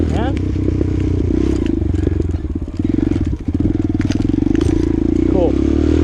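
A Boom Lil Duc 125cc motorcycle with a 4-speed manual gearbox is ridden nearby, its small engine buzzing loud and steady and dipping briefly as it shifts, while someone talks over it.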